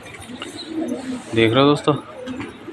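Pigeons coo in a soft, low rhythmic burble at a home loft as the birds are let out, with a voice talking over and between the calls.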